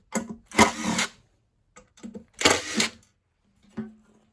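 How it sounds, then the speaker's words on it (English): Cordless power screwdriver whirring in short bursts while dismantling large broken LED lights, two longer loud runs with brief blips between and a final short buzz, close by and without speech. "So while I've got the screwdriver going, keep going."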